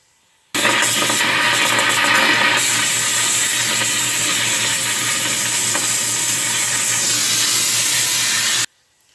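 Metal heating in a crucible for casting a wax ring, a loud steady hiss and roar of the torch flame that starts abruptly, holds evenly for about eight seconds, then cuts off.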